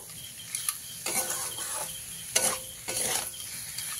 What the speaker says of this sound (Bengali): দিয়ে খুব ভালো করে এইভাবে মিশিয়ে নিতে হবে।